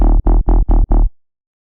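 Synthesized dubstep response bass patch built in Serum, heard alone as five loud, heavy, buzzing notes in quick rhythmic succession, each cut off sharply, followed by silence.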